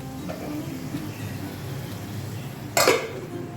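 A lid clatters down onto a pan of Bengali-style pabda fish simmering over low heat, a single loud metallic clank near the end after steady quiet kitchen hum.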